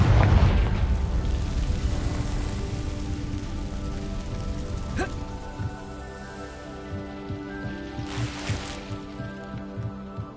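A Confringo fire blast spell in Hogwarts Legacy opens with a heavy low boom that decays over a few seconds, set against a steady hiss like rain, with a sharp crack in the middle and another burst near the end.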